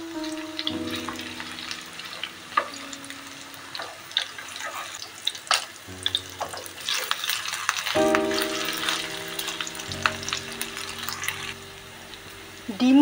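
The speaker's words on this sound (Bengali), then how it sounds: "ডিমগুলোকে এইভাবে উল্টে পাল্টে ভেজে নেব।" Cornflour-coated eggs frying in a kadai of oil while being turned over, a continuous bubbling sizzle with intermittent clinks and scrapes of a utensil, close and fairly loud.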